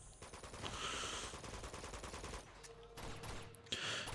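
Gunfire in Uncharted 2: Among Thieves, a dense stream of automatic fire through most of the stretch, moderately loud, with a brief lull and another burst near the end.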